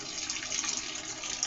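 Water runs steadily from a kitchen tap in a continuous, close hiss with no talk over it.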